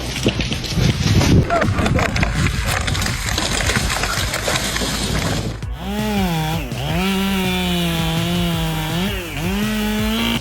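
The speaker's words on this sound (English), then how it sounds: "bring out a chainsaw and cut through a tree trunk" A chainsaw roars at full throttle while chewing through a tree trunk, then drops to a steady droning idle that rises and dips in pitch, loud and close throughout.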